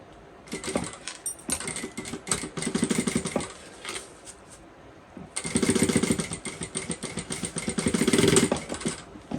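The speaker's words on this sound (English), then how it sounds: "I'm just going to come in and sew as close to that line as possible" A sewing machine stitches a seam on a Bella Bucket Bag in two loud, close bursts of rapid, rattling stitching, with a short pause between them.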